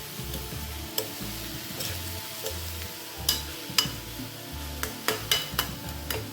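Jackfruit thoran stirred in a pan gives a low sizzle under a rhythmic, repeated scraping of the spoon, with sharper taps and clicks against the pan toward the end.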